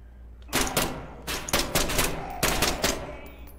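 Single-shot gunfire in the video game SCP Pandemic: a string of separate sharp cracks, roughly eight shots spaced irregularly over a few seconds, close and fairly loud, with no talking.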